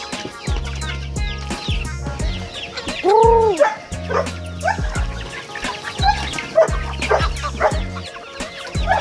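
Chickens on a game farm cluck and squawk busily close by, with a rooster's call and a barking dog mixed in; a person whoops once.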